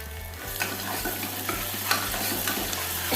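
Chopped onions frying in a pan for chana curry, a steady close sizzle with occasional stirring clatter and no voices.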